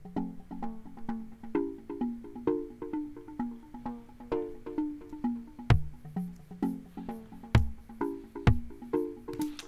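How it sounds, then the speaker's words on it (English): A synth line in Reason Studios plays a repeating plucky melodic pattern over a programmed drum beat, with steady rhythmic notes and deeper kick hits joining partway through, no voices. "So, the main line is going to sound like this over the drums."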